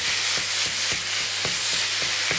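Minced beef browns in a little oil in a frying pan, a steady close sizzle with regular scraping turns of a utensil about every quarter second, no voices.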